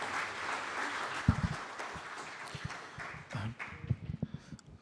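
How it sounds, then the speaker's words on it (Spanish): Conference audience applauding in a hall, a moderate wash of clapping with scattered sharp individual claps and thumps that thin out toward the end. "Pido un aplauso nuevamente para iniciar esta conferencia."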